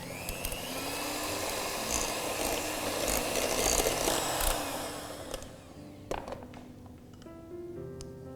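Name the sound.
beating butter and eggs in a bowl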